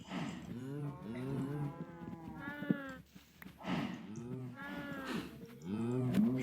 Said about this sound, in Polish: Głupie krowy.